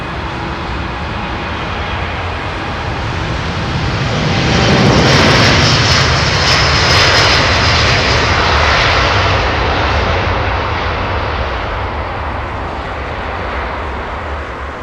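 An airliner landing on runway 27R at London Heathrow, a loud, broad engine roar that swells to a peak as it passes close by, then slowly fades while staying strong.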